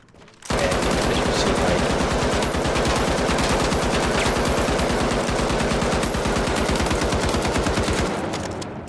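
Sustained rapid automatic gunfire from a weapon in the video game The Finals, one continuous loud burst of evenly spaced shots lasting about eight seconds, heard alone without talk.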